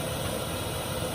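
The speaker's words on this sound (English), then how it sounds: "testing his little new stove" A steady, continuous roaring hiss of a small camping stove burning inside a natural clay cabin in winter, close by and even in level throughout, with a low rumbling undertone.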